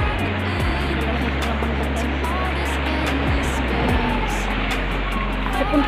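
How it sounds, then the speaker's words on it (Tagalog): Rough sea water churns and splashes around a kayak near an island, with a continuous loud wash and low rumble throughout. "Medyo maalon lang ngayon guys. Maalon, medyo maalon."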